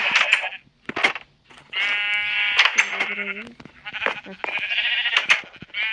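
A Minecraft sheep bleats several times in drawn-out, wavering calls with short pauses between, close and fairly loud.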